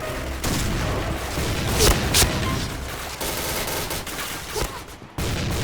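Rapid bursts of gunfire from the shooter game Point Blank, dense and loud across the whole stretch with a few sharper shots near the middle and a brief gap near the end.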